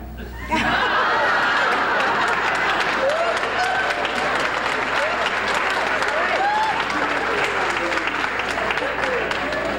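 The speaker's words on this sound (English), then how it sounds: "only women applauding" Loud, sustained applause from a large crowd, with scattered laughter and cheers mixed in, filling nearly the whole stretch after a brief quieter start.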